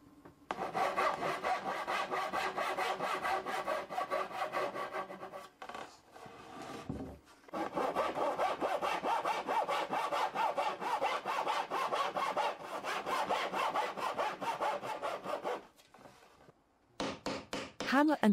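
A Japanese handsaw cuts steadily through wood boards for a mortise and tenon joint in long, rhythmic back-and-forth strokes, close and continuous, pausing briefly twice before resuming.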